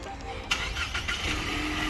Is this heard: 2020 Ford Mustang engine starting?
yes